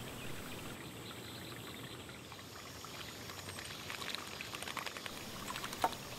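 Robins splash while bathing in a backyard water bath, giving a steady wet, trickling patter with small splashy bursts that pick up toward the end, close by and fairly faint.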